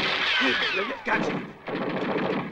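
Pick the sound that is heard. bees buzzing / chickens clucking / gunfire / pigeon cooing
gunfire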